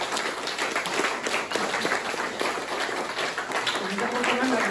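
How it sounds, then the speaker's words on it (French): An audience at an art exhibition opening for artist Tony Soulié in a media library in Mers-les-Bains gives a steady round of applause, dense clapping filling the room with faint voices mixed in. "On peut l'applaudir, je crois."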